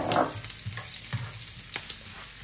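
Garlic sizzling in butter in a pan, a steady close frying hiss with small scraping stirs and light pops, no voices.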